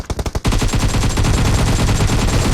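Loud, close automatic gunfire in a battle royale video game, opening with a few distinct rapid shots and then merging into a dense, continuous burst of fire.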